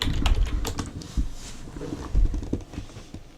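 Fingers type on a computer keyboard at close range: irregular bursts of clicky keystrokes with short pauses between them, and no voices.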